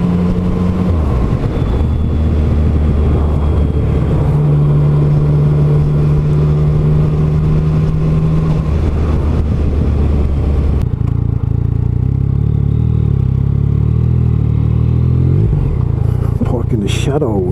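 A Yamaha MT-09 motorcycle engine drones steadily while riding, its pitch shifting as it revs up and settles back down, with a voice talking over it.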